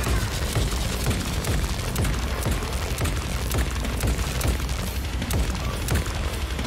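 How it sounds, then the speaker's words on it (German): Weapons fire in Atomic Heart with dense, punchy booming shots and explosions, a continuous loud barrage with rapid repeated impacts filling the whole stretch. "der hat wirklich ein bisschen mehr Wumms, die Waffen jetzt"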